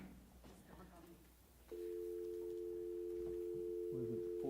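A conference phone in a county meeting room emits a steady, continuous line tone that starts abruptly and holds, with people talking faintly around it at the start and end.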